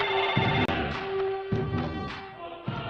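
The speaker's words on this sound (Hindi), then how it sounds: "छोटू को फोन लगा" A telephone rings on an outgoing call, a repeating electronic ring tone with a steady pitch and regular bursts. It is heard alone, at close range, and moderately loud.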